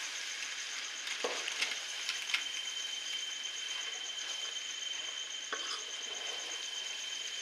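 A sev mixture for sholyo fries and is stirred in a pan, giving a steady, close sizzle throughout with occasional sharp scrapes and clinks of the spoon against the pan.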